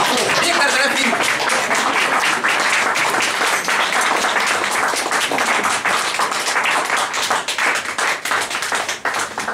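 Loud, dense applause fills a hall at a performance honoring a singer, steady rapid clapping that persists throughout and thins slightly toward the end.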